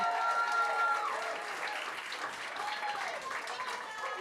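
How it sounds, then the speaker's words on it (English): Applause from wedding guests after a couple's first dance at a winter farm wedding, a steady wash of many hands clapping at moderate distance, with voices mixed in under it. "One more time, round of applause."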